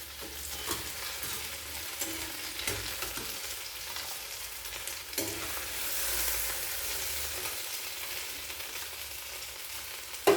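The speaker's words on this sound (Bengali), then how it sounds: "এরপর ধোকাগুলো উল্টে পাল্টে লাল করে ভেজে নেব" Dhoka cakes of cabbage and masoor dal frying in hot oil in a kadai, a steady close sizzle with occasional scraping clinks as the pieces are turned, no talking.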